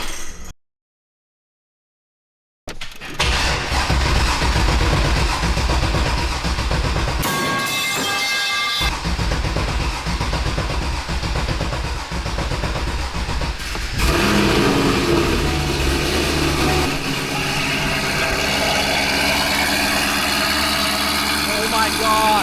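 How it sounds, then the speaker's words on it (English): A C6 Corvette fitted with longtube headers cranks and fires up, a brief silence giving way to a loud, rough idle with a few blips of revving, close up, with people talking over it. "I didn't mean to start the car already. That's so loud."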